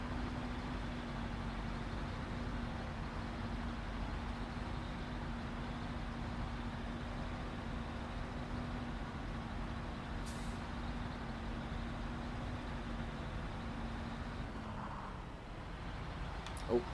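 A GMC truck in the video game Snowrunner spins its tires, making a steady, unbroken engine drone that holds at one pitch for many seconds before easing off near the end.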